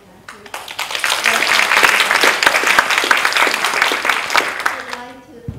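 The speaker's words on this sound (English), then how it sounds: "And a big round of applause for our lovely MC." An audience claps at the close of a Buddhist talk event. The applause swells quickly from quiet into dense, sustained clapping for several seconds, then tapers off.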